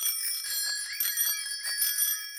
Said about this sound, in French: Qui a la sonnette la plus bruyante?